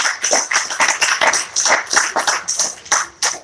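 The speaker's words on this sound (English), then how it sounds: "Let's give her a round of applause." A few people applaud Winnie Mandela with sharp, distinct claps in a quick, somewhat rhythmic run, close and clear rather than a dense crowd roar.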